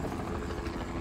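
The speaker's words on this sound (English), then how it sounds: "The helicopter's right above us filming." A helicopter hovers overhead while filming above a ground crew in thick bush, its steady rotor and engine rumble continuous and moderately loud, with no voices.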